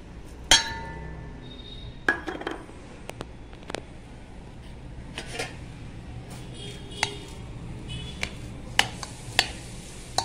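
A spoon stirs sugar into mango shrikhand (amrakhand) in a bowl, giving scattered sharp clinks and taps against the dish over a quiet background, with no talking.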